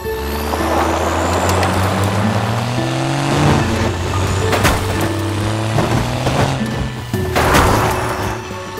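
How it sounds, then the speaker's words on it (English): A big monster truck engine growls continuously up close, revving up and down in stepped pitch shifts, punctuated by a few bangs and thumps. "The yellow monster truck."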